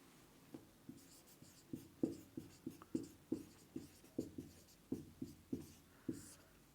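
Chalk tapping and scraping on a board while incident light is written in Hindi during a physics lesson, a steady run of short clicks and strokes roughly every third of a second, close and fairly quiet.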